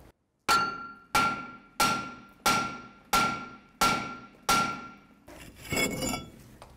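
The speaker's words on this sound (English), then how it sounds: "before I hit it with a hammer" Seven sharp metallic hammer blows strike a frozen brake rotor on a Jeep Cherokee at a steady pace, each ringing briefly and close up, followed by a rougher, noisier scraping burst.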